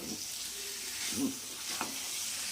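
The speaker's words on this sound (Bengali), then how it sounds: "আমি কন্টিনিউয়াস হাত চালিয়ে নাড়ছি, নেড়ে যাচ্ছি" Steady sizzling of minced chicken keema frying in a pan, with a couple of soft scraping stirs from a spoon; no talking.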